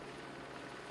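A helicopter, one of two flown about 20 hours a day on patrol, drones steadily overhead with a broad, continuous rotor and engine roar, fairly distant and unbroken, with no talking.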